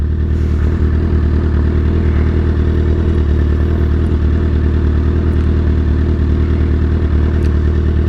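A 2008 Suzuki GSX-R 1000 with velocity stacks and a bad clutch runs steadily at close range, a loud, continuous engine drone with mechanical clatter and no voices.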